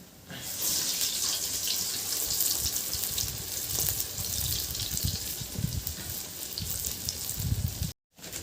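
Water running steadily from a tap while hands are wetted to shape bade, a continuous close splashing hiss with small irregular drips that cuts off briefly near the end.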